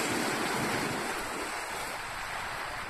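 Ocean surf rolls onto a wild, rocky shore beside an old pier and breakwaters at Yugawara, Japan, a continuous loud wash of waves mixed with wind buffeting the microphone, no voices.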